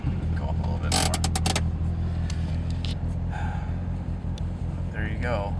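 A car with a 2.4L FF 6466 2150cc injected engine on E85 and a stock ECU drives at low speed, a steady loud engine drone throughout with brief higher bursts, no talk.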